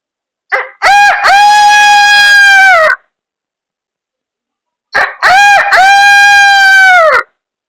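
A voice imitates a rooster crowing twice, loud and close, each call a long drawn-out cock-a-doodle-doo separated by a few seconds of silence.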